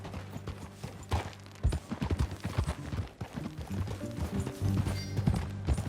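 Horse hooves clip-clop on hard ground in an uneven walking rhythm in Red Dead Redemption 2, fairly close, with faint background noise and no talking.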